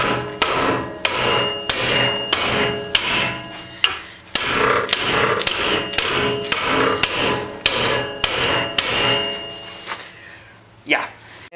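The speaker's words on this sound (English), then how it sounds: "it's just about 15 minutes of non-stop hammering with a 40 ounce" Steady, repeated metal hammer strikes from a 40-ounce hammer beating a Miata part loose, roughly one blow per second, loud and close, continuing for several seconds before a pause and a final scrape.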